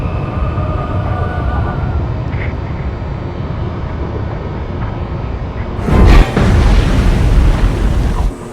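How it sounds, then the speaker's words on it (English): A massive explosion erupts in the combat game Masters of War, a sudden loud broadband boom about two-thirds through that rises over a steady low aircraft engine drone and then settles into a heavy rumbling roar. "Big Poppy, I see a massive explosion to the south."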